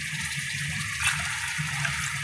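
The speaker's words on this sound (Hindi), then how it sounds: "अच्छा जी, हम इसके अंदर ऐड कर देंगे 2 गिलास पानी।" Two glasses of lukewarm water poured into a cooking pot of aloo gosht, a short close gushing splash that swells briefly midway, with no talking.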